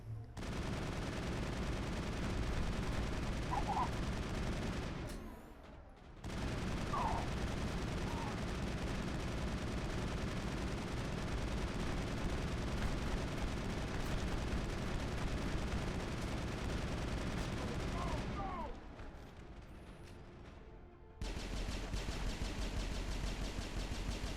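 Gunfire in the video game Mass Effect pours out in dense, rapid bursts, nearly continuous and loud, broken by two short pauses before the shooting resumes.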